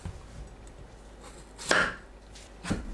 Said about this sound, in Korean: 양끝을 자릅니다.